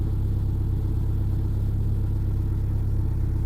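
A Saab car engine idling, a steady low rumble with an even throb that holds constant and close throughout.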